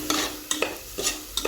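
A spoon scrapes and stirs in a pan while ingredients roast for milk payasam, a few soft, close scraping strokes with faint sizzling between them.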